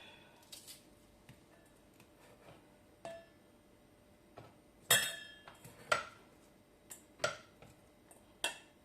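Onion being chopped on a kitchen board, a run of sharp, irregular knife knocks and clicks, close and fairly quiet, with a few louder taps near the end.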